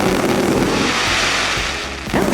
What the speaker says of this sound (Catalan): sentireu moltes explosions, com aquesta